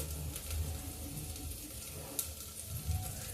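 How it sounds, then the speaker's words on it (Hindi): Chopped onion hits a hot pan of lightly browned garlic and sizzles: a steady, close hiss of frying with faint stirring clicks and no talking. "इसके बाद तुरंत आप प्याज डाल दें।"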